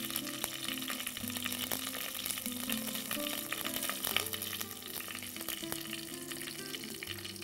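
Curry leaves, asafoetida and turmeric powder sizzle and crackle in hot oil in a pan, a steady close frying hiss with small popping bursts throughout, no talking.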